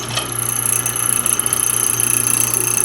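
A mortising machine drives its chisel down into wood and is drawn back out, the motor humming steadily with a fine rapid chatter, loud and close, with no talk.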